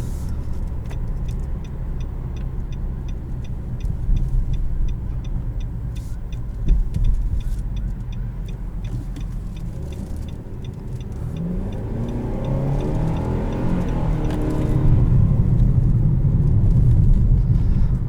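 A 2020 Nissan Rogue Sport SL cruises along the road, heard from inside the cabin as a steady, muted engine hum and road rumble that swells slightly toward the end, with no talking.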